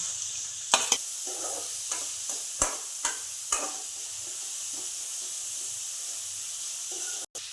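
Paneer frying in a pan, giving a steady hissing sizzle with several sharp clacks of a spatula stirring against the pan and a low hum underneath, with no talk.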